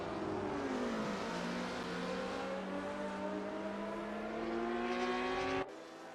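Racing cars, a Ford Capri and a BMW, on the Daytona circuit in a sim racing game, engines droning loudly with a rising and falling pitch over several seconds before cutting off.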